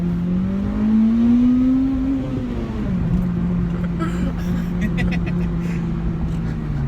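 An Acura RSX Type S with an Invidia Q300 exhaust revs up into VTEC with a rising engine note, then drops and holds a steadier drone, heard from inside the car while people talk.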